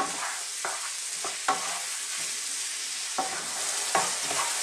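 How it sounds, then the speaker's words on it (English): Mushrooms cook in a pan with a steady hiss of frying, broken by several distinct scraping stirs of a utensil against the pan. "So again, let's cook this and stir it often"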